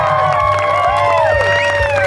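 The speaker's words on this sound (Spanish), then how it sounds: "¡Aplauso para la gordita!" A crowd at a Holy Week ranch rodeo (jaripeo) in Quetzalapa, Jacala de Ledezma, Hidalgo, cheers and applauds loudly and close by. Whoops and whistles rise over a continuous roar for a couple of seconds.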